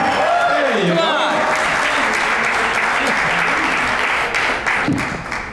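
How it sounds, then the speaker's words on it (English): Audience at an ALS fundraiser applauding loudly, a dense and steady wash of clapping from a crowd that starts out strong and fades slightly near the end, with voices mixed into it. "Can we please have a big round of applause from everyone?"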